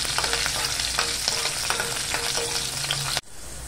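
Cumin seeds, curry leaves and green chilli fry in hot oil for a fasting-style potato dish, a dense continuous sizzle with faint stirring taps throughout, cutting off abruptly near the end.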